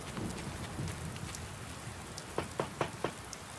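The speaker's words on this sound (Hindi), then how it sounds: "बारिश हो रही है।" Rain pattering steadily in the video game Last Day of June, a soft continuous wash with several sharper drop-like taps near the end, heard alone without voices.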